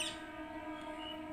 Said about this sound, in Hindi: पीछे से ट्रेन की आवाज़ आ रही होगी ना